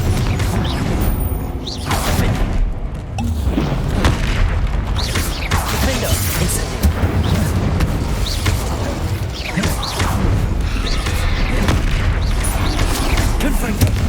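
Spell explosions from Confringo casts in the video game Hogwarts Legacy: repeated booms and bursts overlap in a loud, constant battle din, with crackling and crashing impacts spread across the whole stretch and no talking.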